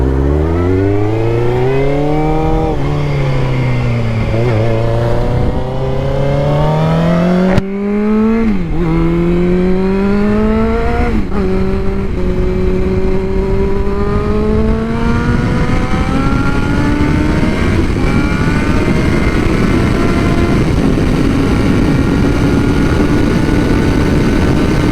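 A dirt bike engine running on fresh premium fuel revs up and down repeatedly, loud and close, with rising and falling pitch sweeps that give way to a sustained rough roar.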